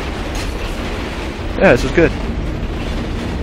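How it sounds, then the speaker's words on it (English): A train carriage in Condemned: Criminal Origins rattles along with a steady, loud rumbling roar, and a voice speaks briefly over it. "Hanging out in the back of a train."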